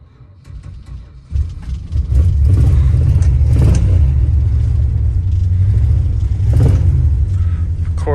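A 1965 Dodge Monaco with a 383 V8 cranks briefly, then catches and settles into a loud, steady, deep idle rumble with a couple of revs, close by and alone.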